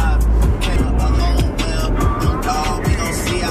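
A new Corvette idling and creeping in traffic, a low rumbling engine with some surrounding road noise and bumps, close and steady throughout.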